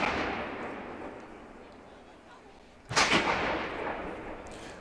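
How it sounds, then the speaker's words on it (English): A single loud, sharp ceremonial cannon boom cuts through a steady rumble of crowd noise at a governor's inauguration on a Capitol lawn, its echo rolling away over the open air. "Bright orange flashes seen through the smoke as the cannons continue to fire."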